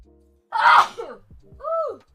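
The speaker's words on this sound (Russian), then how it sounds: "Oh, I have to sneeze." A single loud, close sneeze bursts out, followed by a short groaning vocal sound from the same woman.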